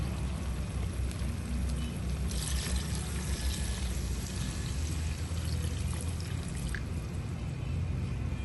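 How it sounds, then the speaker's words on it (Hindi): Water pours steadily into a pot of rice soaked for 10–15 minutes, a continuous splashing stream with a brighter, heavier burst midway, close and alone without talk. "अब हम इसमें डालेंगे पानी।"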